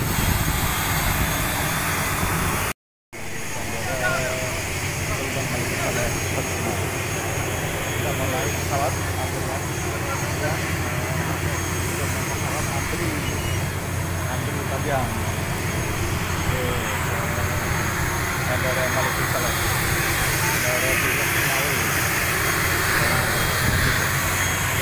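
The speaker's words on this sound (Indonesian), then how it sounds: "Pesawatnya udah siap." Airplane engines drone steadily at Malikussaleh airport in Lhokseumawe, Aceh, a loud continuous roar filling the scene with a brief cut early on, while people talk over it.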